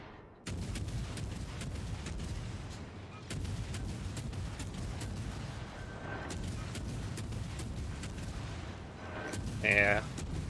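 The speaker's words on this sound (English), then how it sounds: "the Fletcher machine gun" Rapid machine-gun fire from a Fletcher destroyer in the naval combat game World of Warships Legends, a dense, continuous rattle of shots with heavier booms mixed in, steady and loud for most of the stretch.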